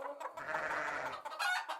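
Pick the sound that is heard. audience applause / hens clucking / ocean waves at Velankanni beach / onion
hens clucking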